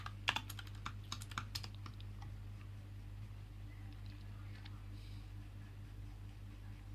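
A computer keyboard is typed on, with a quick burst of close, crisp key clicks at the start, then sparse taps over a quiet, steady fan hum.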